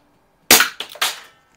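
A single sharp CO2 pistol crack from an Umarex Brodax .44 revolver fired at a shotgun shell set on a board, followed by two quick smaller impact rattles, close and loud, no talking.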